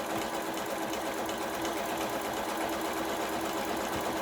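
A Brother sewing machine sewing a triple overlock zigzag stitch runs steadily, with a fast, even mechanical chatter. The sound is close and continuous for a few seconds, with no talk.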